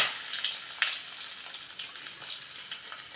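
Coconut pieces frying in hot oil give a continuous crackling sizzle that is moderately loud and slowly fading, with small pops scattered through it and no voices.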